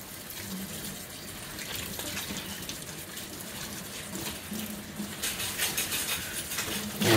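Water runs steadily from a tap while a cast iron pan is rinsed and scrubbed with light soap to remove rust, a constant close splashing rush with no talk.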